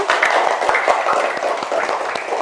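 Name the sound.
classroom applause for a student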